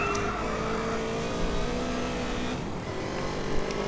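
A motorbike roars at high speed in GTA Pakistan, its engine holding a steady, loud drone with a faint rising whine throughout, no voices.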